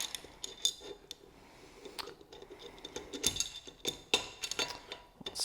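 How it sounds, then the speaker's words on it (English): Small screws being driven by hand into a camera base plate, with faint metallic clicks, ticks and light scraping in an irregular rhythm that are close and quiet, and no speech. "And then these are going to screw in with 2 screws"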